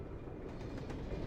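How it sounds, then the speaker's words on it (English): A train from The Polar Express rolls steadily along its rails, a continuous close rumble of wheels and carriage noise with no clear breaks throughout. "Or just listen to the train."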